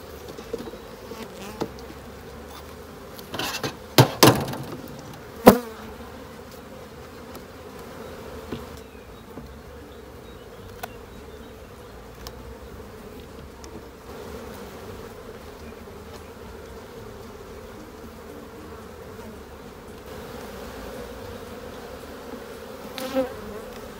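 A soft, continuous buzzing hum of honeybees at an opened beehive during a spring hive inspection, with a few brief clicks and knocks early on.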